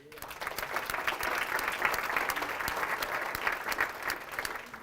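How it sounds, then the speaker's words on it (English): An audience gives a warm round of applause, dense clapping swelling quickly and holding steady for several seconds before tapering off. "I think everyone should please give him a round of applause for that"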